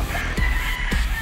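Fighting roosters raised in the mountains of Cebu, Philippines, give a couple of short, close clucking calls over steady outdoor background noise.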